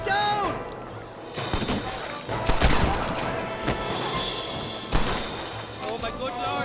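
Gunfire erupts in a Red Dead Redemption shootout, several sharp booming shots and bursts, with a brief voice heard amid the loud, echoing blasts.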